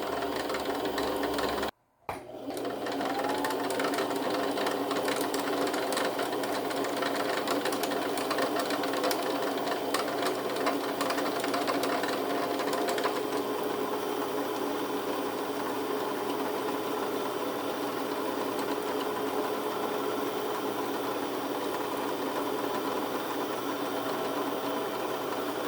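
Sewing machine winding thread onto its bobbin at a slow, steady speed, a continuous motor whir and hum that runs evenly throughout after a brief dropout near the start, close and moderately loud, no voices.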